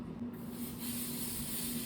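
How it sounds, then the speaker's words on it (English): Black edible food spray hissing out of a can onto a cake to draw cat whiskers, a steady close hiss running for the full two seconds with no talk. "for whiskers, what I think I'm gonna do, we're just gonna spray black"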